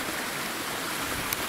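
A small waterfall pours into a stream in the Harthope Valley, giving a dense, steady close rush of falling water with no talking.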